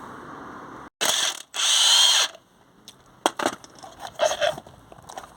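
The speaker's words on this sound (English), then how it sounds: "16mm headed nut. Just going to take that off with the impact" An impact wrench taking a 16mm headed nut off a Volkswagen T4, with two loud close bursts of hammering, one short and one longer, then scattered clanks and tool clatter.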